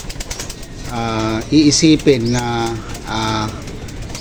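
Pigeons cooing and flapping past at close range in a loft area, repeated throaty coos with brief wing flutters while someone speaks over them.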